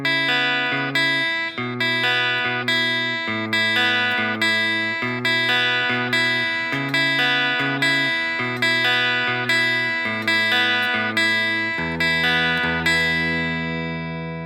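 An acoustic guitar plays a song's repeating chord pattern with steady, evenly spaced plucked strums that shift to new chords every few seconds, loud and close with no voice.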